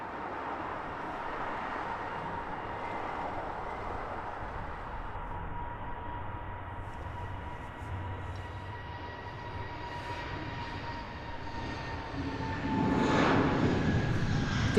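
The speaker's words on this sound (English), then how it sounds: "Beautiful Etihad coming into land there" An Etihad airliner on approach to land at Heathrow, its steady engine drone and whine holding for the whole stretch before swelling louder near the end as it passes closer.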